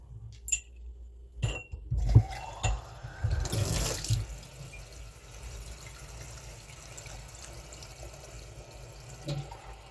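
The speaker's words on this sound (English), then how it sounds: "Now I'm going to go ahead and add my water." Water runs and splashes steadily into a pot, a brief stream with clatter at the start, then a softer continuous flow tapering off.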